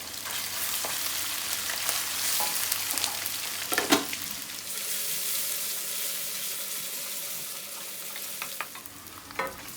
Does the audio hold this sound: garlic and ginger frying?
yes